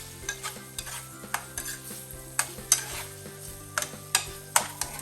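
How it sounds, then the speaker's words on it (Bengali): Malai kofta balls being stirred through frying masala in a pan, with repeated sharp scrapes and clinks of the spoon over a continuous low sizzle, close and clear with no talking. "কোপ্তাটা দেওয়ার পরে কোপ্তা এভাবে করে মশলার সাথে ভালো মতো করে নাড়াচাড়া দিব"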